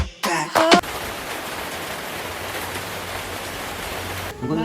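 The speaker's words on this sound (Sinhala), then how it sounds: "උදේ ඉඳන් වහිනා ඉවරයක් නැහැ" Steady rain falls with an even, dense hiss that lasts for several seconds, after a brief voice and throat-clearing sound at the start.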